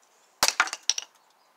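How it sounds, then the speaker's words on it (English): An attempt to smash a rock outdoors, heard as a handful of sharp, close cracking impacts in quick irregular succession over about half a second, then quiet. "You want to see me smash a rock?"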